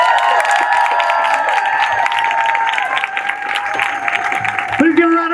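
Crowd at a street rally applauding and cheering, sustained clapping with whoops and shouts throughout, a close voice talking over it near the end.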